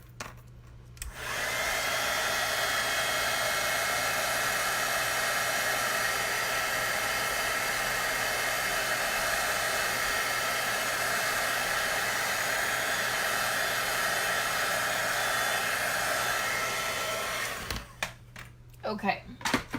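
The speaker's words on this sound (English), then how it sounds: "let's grab my heat tool and I'm just gonna heat this up" A handheld heat tool warming a craft piece blows with a steady, loud whooshing hiss for about sixteen seconds, then cuts off, with brief talking before and after.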